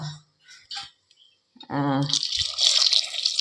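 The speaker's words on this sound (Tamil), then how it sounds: "நான் ஒரு டம்ளர் தண்ணி போட்டிருக்கேன்" Water splashes and pours from a tumbler into a pot of eggplant gothsu being prepared, a short run of liquid sloshing after faint earlier kitchen sounds and a voice.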